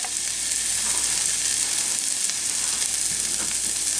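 Razor clams fry in lightly browned butter with onions in a pan, giving a continuous loud sizzle that stays even throughout, close up and with no voices.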